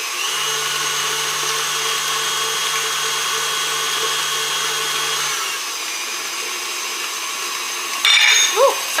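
An electric mixer runs steadily through cookie batter just after vanilla goes in, a constant mid-volume motor whine that drops slightly in pitch partway, then a brief clatter near the end.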